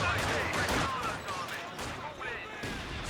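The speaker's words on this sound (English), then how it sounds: "Some incendiary grenades" Incendiary grenades and gunfire in a Company of Heroes 2 multiplayer battle, dense bursts of shooting and explosions with a caster talking over the steady din.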